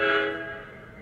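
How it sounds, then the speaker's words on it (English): A Proto Sound 2 model train locomotive sounds its forward whistle, a loud, chord-like horn blast that starts strong and fades out without any talk. "SFS means a forward whistle,"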